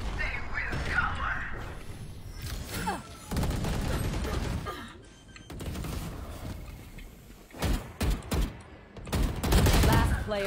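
Rapid bursts of gunfire and weapon fire from the tactical shooter game Valorant, loud clustered volleys with short pauses, and a voice speaking between the shots.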